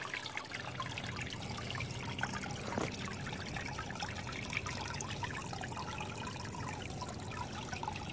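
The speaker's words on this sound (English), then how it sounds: "Here, let's jiggle the water." Water jiggled by hand, giving a continuous soft trickling wash that stays fairly even from start to finish.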